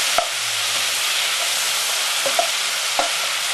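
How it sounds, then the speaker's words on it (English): Bacon sizzles steadily in a pan over medium heat, a dense continuous frying hiss with a few faint clicks and pops. "add the bacon, and just fry that a little bit over a medium heat"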